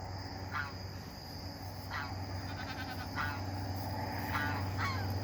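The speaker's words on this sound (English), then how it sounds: "And we got the noisy gooses." Geese honk in short, repeated bursts a few seconds apart over a steady low background hum in a farmyard, moderately distant and fairly faint.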